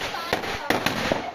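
Firecrackers burst in quick succession, three or four sharp cracks within about a second, close and loud.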